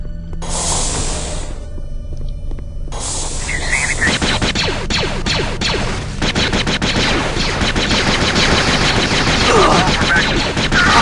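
Sustained gunfire in the video game Jedi Outcast, rapid loud shots rattling almost without pause, thickening into a continuous close barrage with brief quieter gaps early on.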